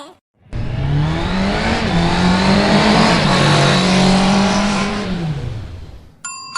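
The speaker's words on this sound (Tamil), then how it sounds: "சீக்கிரம் வண்டியை வேகமா ஓட்டுடு" Cartoon vehicle sound effect of an engine revving hard and racing at speed, loud, close and continuous for several seconds, with the pitch rising and falling before it cuts off.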